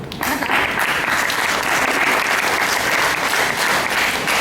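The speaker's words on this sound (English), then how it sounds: "Can I just applaud you," Loud, dense applause from a school audience, starting abruptly and sustained evenly for about four seconds with no talk over it.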